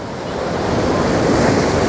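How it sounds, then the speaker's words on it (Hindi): Rough sea at a coastal beach during high tide, with surf crashing and rushing in a broad, loud roar that swells gradually, mixed with steady wind noise and no talk. "तो ये देखें जी ठाठे मारता समंदर"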